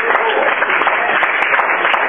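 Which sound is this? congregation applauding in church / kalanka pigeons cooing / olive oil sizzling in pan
congregation applauding in church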